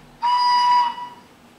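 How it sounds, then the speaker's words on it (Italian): A single digital sound steam whistle from an ACME FS E444 model locomotive blows steadily for about half a second, bright and clear, then cuts off and fades quickly. "Tasto 2, fischio."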